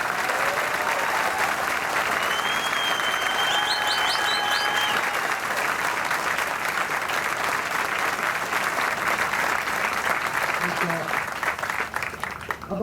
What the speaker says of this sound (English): Let's join me in a round of applause for that.